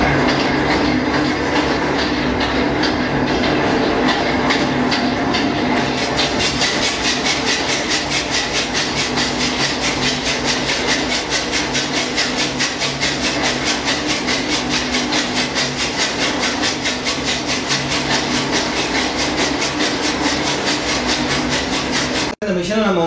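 A chaff cutter machine runs steadily, chopping corn stalks, with a loud continuous rhythmic mechanical clatter that holds for most of the stretch before cutting off abruptly near the end.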